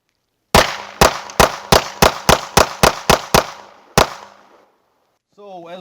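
Ten sharp gunshots from a small pistol at an outdoor range ring out in a quick, fairly even string, then one more after a short pause, loud and close with echoing tails, followed by brief speech.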